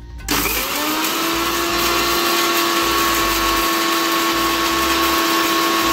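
A mixer grinder blending green coriander chutney with an ice cube and salt kicks on abruptly and then runs as a loud, steady high-pitched whir, close and continuous for the whole stretch with no talking.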